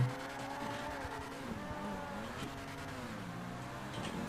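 A car in GTA 5 Online skids through a tough race, its tires squealing in long wavering tones over a steady engine drone, close and continuous for a few seconds.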